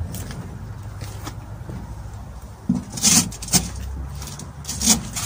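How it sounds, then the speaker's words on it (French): A wooden board is set back down on top of storage crates inside a Renault Kangoo van conversion, giving a few close, dry scrapes and soft knocks of wood against wood. "Je remets ma planche dessus."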